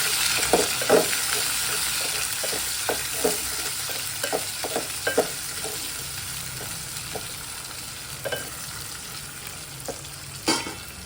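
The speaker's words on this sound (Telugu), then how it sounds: "ఉల్లిగడ్డలు కొంచెం ఫ్రై కావాలి." Onions frying in a pan for Telugu-style chinthapandu chicken and bagara rice, a steady broadband sizzle with irregular scraping stirs and clinks of a spatula against the pan throughout, close and moderately loud with no talking.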